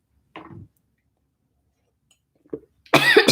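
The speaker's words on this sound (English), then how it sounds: "Sorry, I'm coughing." A person coughs while eating Pop-Tart cereal with milk: a short cough, a long pause, a brief second cough, then a louder burst of coughing and choking, all close up.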